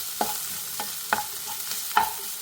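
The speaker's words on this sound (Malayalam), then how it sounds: "നന്നായി ഇളക്കി കൊടുക്കുക." Cauliflower and egg are stirred in a pan, four distinct scraping strokes of a spoon about half a second apart over a faint background hiss, close and clear.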